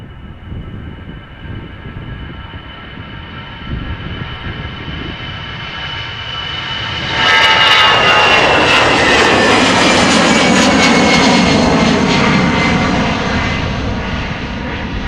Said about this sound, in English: A319 from EasyJet underway to London,